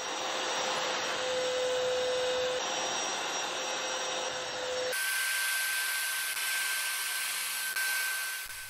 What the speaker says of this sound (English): He gave the carpet a quick vacuum.